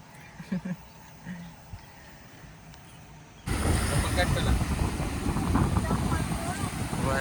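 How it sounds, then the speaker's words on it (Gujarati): At a seashore, steady loud wind and sea waves roar in abruptly after a quieter opening with a few voices. "દરિયા કિનારે આવી ગયા છીએ ને સરસ મજાનો દરિયો છે"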